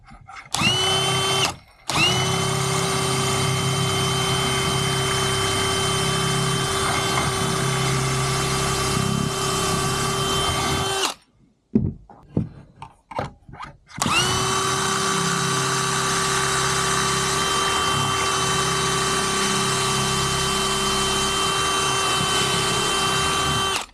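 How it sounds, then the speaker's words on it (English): A power drill drives screws into a reclaimed wood board, two long steady high-pitched whirring runs separated by a short pause and a stretch of clicks and brief bursts, close and loud. "Just going to drill this right into here now."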